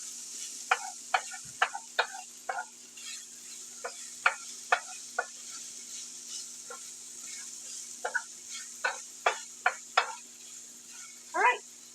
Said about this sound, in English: we're just going to give it a good mix together